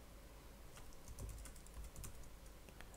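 Quiet keystrokes on a computer keyboard as a username and password are entered, coming in short uneven bursts of light clicks, heard alone without talk.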